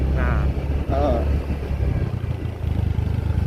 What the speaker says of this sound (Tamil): இந்த பைக் சத்தம் தான் வந்து கேட்கும் போல கிடக்கு